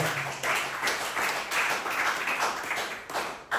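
A church congregation claps along in steady, rhythmic bursts, filling the room at moderate volume with no talk over it.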